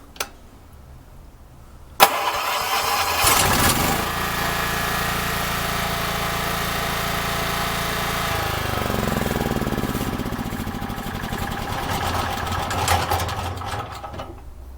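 A Makita G4101R generator with a Robin (Subaru) engine cranks after a sharp click, then catches and settles into a loud, steady running drone that wavers slightly and carries on to the end.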